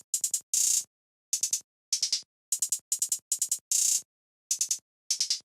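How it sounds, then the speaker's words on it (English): Trap hi-hat from a Ferno drum kit playing a triplet pattern: quick clusters of three or four crisp ticks alternating with short sustained rolls, repeating steadily and loud with no voices. "And then for the first drum sound I used this Ferno hit 1 hi-hat,"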